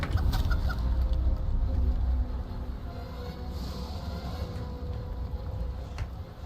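Clucking chickens in a video game, a loud, busy stretch of rapid clucks over a dense low rumble, easing slightly after the first couple of seconds and carrying on steadily to the end.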